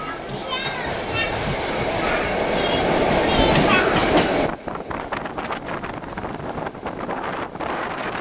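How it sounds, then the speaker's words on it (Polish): A locomotive standing at a station hisses and rumbles loudly at rest, a broad steady roar that abruptly drops to a quieter, sputtering idle midway through. "stoi na stacji lokomotywa"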